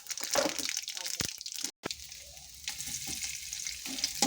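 Dried red chillies, mustard seeds, cumin and urad dal sizzle and crackle in two spoons of hot oil for a ridge gourd chutney, heard close up with a voice talking over the frying.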